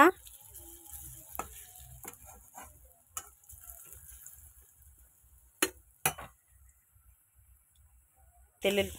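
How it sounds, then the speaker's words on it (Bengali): Garlic and dried red chillies fry in hot oil, giving a low steady sizzle with occasional sharp clinks of a utensil against the pan; a person speaks over it. "তেল ছিল, তার মধ্যে দিয়ে দিলাম রসুন আর শুকনো লঙ্কা ফোড়ন।"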